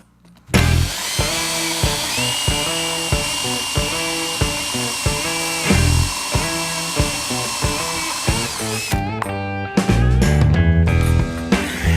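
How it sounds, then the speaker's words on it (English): A power drill bores a bolt hole through plywood for a shock absorber mount on a 1939 Hudson rat rod. A loud, steady whine pulses in quick bursts as the bit bites, then winds down to a few short runs near the end. "Let me just drill this bolt hole first."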